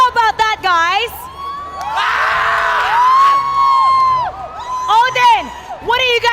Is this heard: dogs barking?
no